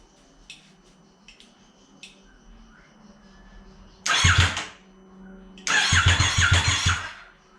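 A small engine on a coin-operated ride, fitted with a new fuel pump and a freshly connected battery, cranks after the key is turned, two loud rough bursts of firing after a few faint clicks, close by.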